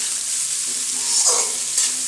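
Mixed vegetables and green peas frying in a pan for Indo-Chinese veg fried rice: a loud, close, continuous sizzle with a short burst of stirring scrape near the middle.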